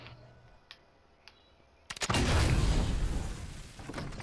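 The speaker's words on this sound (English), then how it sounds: "I just shot a cannon" Cannon fired in a video game, a sudden heavy boom after a quiet stretch of faint clicks, followed by a long loud rumbling roar that slowly fades.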